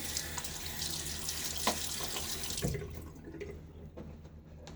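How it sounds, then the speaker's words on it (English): Tap water runs steadily into a bathroom sink and splashes as water is cupped onto the face before a wet shave, a close, continuous rush that thins toward the end. "a little water on the face"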